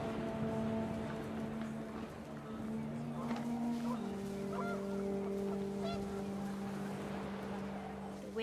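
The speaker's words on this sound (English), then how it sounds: "The wind picked up and panicked geese appeared and quickly went." Panicked geese honk in the video game What Remains of Edith Finch, a dense chorus of overlapping calls with a steady droning background and wind throughout, loud and continuous.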